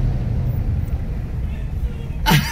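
A car engine rumbles steadily from outside at a moderate distance, with a brief louder burst near the end.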